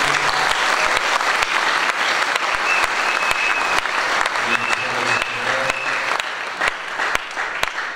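A church congregation claps together in sustained, even applause that fills the room, with the occasional voice mixed in beneath the clapping.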